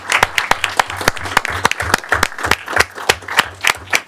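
An audience at a Cranford Board of Education meeting applauds, a modest crowd clapping in quick, uneven bursts close by, loud and continuous for a few seconds.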